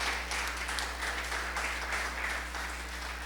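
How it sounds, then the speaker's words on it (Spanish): Church congregation applauding in praise, a dense, even wash of clapping from many hands lasting the whole stretch over a steady low hum, no talk. "Denle un aplauso al Señor"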